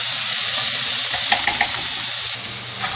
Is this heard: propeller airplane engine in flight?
no